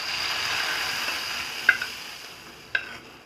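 Onions go into a frying chicken curry over lowered heat, and a steady hiss of oil fades gradually while two sharp clinks of utensil on pan ring out.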